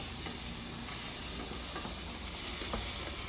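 Butternut squash sizzles in a pan over high heat, a steady bright hiss with faint scattered pops and light stirring, with no voices.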